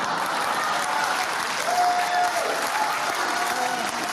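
Studio audience at a comedy talk show breaking into sustained applause, a dense, even roar of clapping mixed with faint crowd cheering, holding steady from start to finish.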